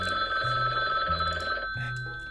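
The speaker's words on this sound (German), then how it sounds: "Man klingelt dieses Telefon." Telephone ringing in the video game Gartic Phone, a bright electronic ring with repeating tones in three short bursts, clear and alone.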